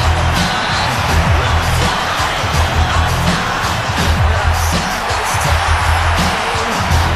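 Dense wrestling event crowd noise fills the arena, a continuous roar of cheering and scattered whoops at steady loudness, with no clear single voice standing out.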